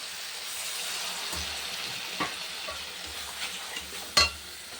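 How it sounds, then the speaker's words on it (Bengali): Spice paste of green chilli, chilli powder, turmeric and salt fries in a pan for a small-fish curry, a soft steady sizzle under a few light scrapes and one sharper clink near the end, with no talk. "মশলাটা কষানো হয়ে গেছে"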